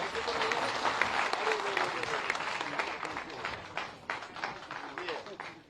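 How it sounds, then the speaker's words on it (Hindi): A crowd at a chief minister's public event in Aligarh, India applauds loudly, dense clapping sustained for several seconds before it thins out toward the end. "जोरदार तालियों के साथ स्वागत।"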